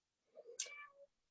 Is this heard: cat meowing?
yes